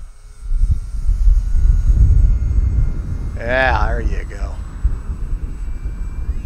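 An Arrows Husky RC plane flying low and slow past, its buzzing electric motor rising and falling over steady wind rumble outdoors, with someone speaking briefly partway through.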